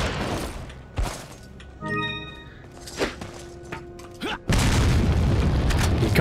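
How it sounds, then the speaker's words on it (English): Grenade blasts in the Resident Evil 4 boss fight against Krauser land as a series of separate booms and thunks among game sounds, ending in a loud sustained burst of noise. "You can't hit me with no bullshit grenades."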